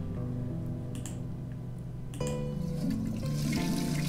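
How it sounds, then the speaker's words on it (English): A toilet flushes in the video game The Darkside Detective: a steady watery rush that swells suddenly about halfway through and keeps running louder to the end, heard alone. "I just flushed it for no reason."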